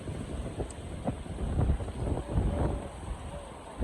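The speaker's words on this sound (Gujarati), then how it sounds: "પવન જબરજસ્ત પવન" Strong gusting wind buffets the microphone in low roaring bursts, with faint voices in the background.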